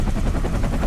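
Bell UH-1 Iroquois helicopter simulated in the X-Plane flight simulator, giving a loud, steady low rotor thump and engine drone that fills the whole short stretch without any talking.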